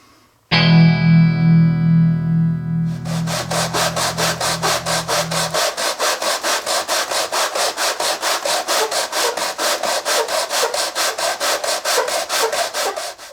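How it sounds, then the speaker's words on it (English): A loud opening tone gives way to steady, rhythmic back-and-forth rasping of ukulele wood parts rubbed across sandpaper mounted on 3/4-inch MDF, repeating quickly and evenly. "mount that sandpaper onto the 3/4 MDF and give this a good surface sanding"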